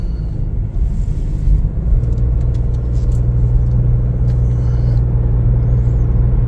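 Steady low engine rumble and road noise from a Chevrolet Trailblazer RS on a test drive, heard from inside the cabin, continuous and fairly loud with no talking.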